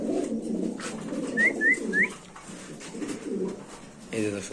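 Pakistani pigeons, a chocolate-coloured pair, give several low, soft rolling coos in close succession, with a few brief higher chirps and muffled voices nearby.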